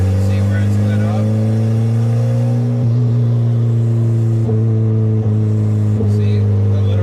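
A hatchback engine with a crackle-and-pop tune holds a steady, close droning note, and faint sharp pops break through as the revs ease off on deceleration.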